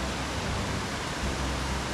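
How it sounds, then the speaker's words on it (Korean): A mountain stream rushes through a rocky valley on Bangtaesan in Inje, Gangwon, close to a two-tier waterfall, giving a steady, loud, broadband roar of falling and flowing water with no voices. "들어서자마자 시원한 물소리가 먼저 달려 나왔습니다"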